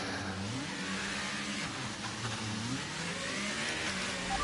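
An F1 car engine in F1 23 revving up and down through the gears, a continuous high whining drone with rising and falling pitch sweeps, steady and loud with no talk.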